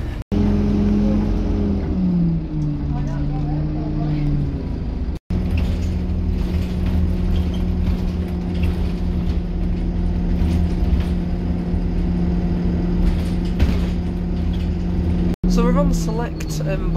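Dennis Dart single-deck bus, an ex-Stagecoach NK56 example in tired condition, droning steadily from inside the cabin with a loud low engine hum that shifts pitch as it pulls away, with voices talking over it.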